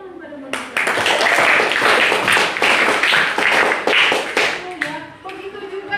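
A classroom of students claps for a classmate in a dense burst of hand clapping that swells quickly, holds for several seconds, then thins out, close by and with a teacher's voice around it.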